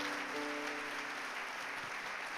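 A church congregation claps together in dense, continuous applause that holds at an even level throughout.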